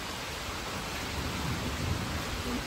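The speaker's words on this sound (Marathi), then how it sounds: "आनी पावस भितर कसो मारता पळयात." Heavy monsoon rain driven by strong storm wind, blowing into a house, makes a steady, dense, moderately faint roar of rushing noise with no voices.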